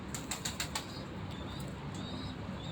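Ali wale pigeons beat their wings in a quick flurry of soft flaps near the start, then a couple of fainter flutters follow over a quiet background.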